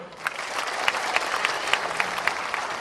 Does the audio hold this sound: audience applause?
yes